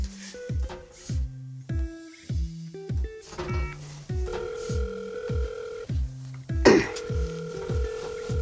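A telephone rings in a repeated pattern of short bursts separated by gaps, the call unanswered until the last ring. The ringing is moderately close and clear, with no talking over it.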